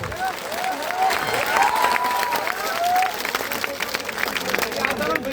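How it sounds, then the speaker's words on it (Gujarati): Crowd at a political rally clapping to welcome Gujarat politician Jignesh Mevani, sustained applause with scattered cheers and a voice rising over it. "પહેલા બે હાથ ઊંચા કરીને તાળીઓથી જિગ્નેશભાઈને વધાવો"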